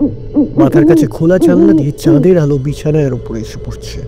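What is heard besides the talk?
owl hooting at midnight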